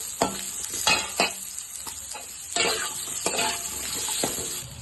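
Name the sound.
chopped onions frying in a pan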